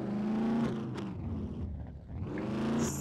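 A car engine in the video game SCUM growls and revs, its pitch rising and falling in waves, close and fairly loud.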